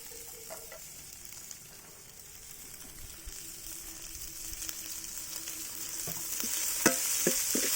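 Shallots sauté in a pan for kanthari chicken, a steady sizzle that grows louder and brighter, with stirring clicks and scrapes near the end.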